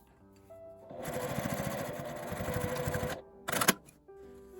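A sewing machine stitches a cord onto a fabric tissue cover in one steady burst of rapid whirring needle strokes lasting a couple of seconds, followed by a brief sharp clatter, with quiet room tone before and after.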